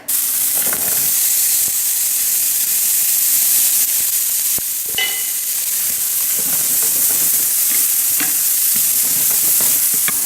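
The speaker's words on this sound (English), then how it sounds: "I'm gonna cook the onions and the garlic" Onion and garlic frying in about a teaspoon of olive oil in a pan, giving a loud, steady sizzling hiss with occasional stirring clicks close by.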